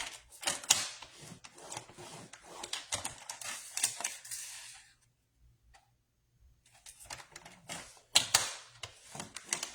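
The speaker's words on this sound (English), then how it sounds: "And on each side, which 3 sides, you're going to score 1/2 inch." Paper is scored with a tool for a scrapbook mini album folio. Dry, rapid clicking scrapes come in bursts, with a silent pause midway before the scoring resumes. Close and fairly quiet.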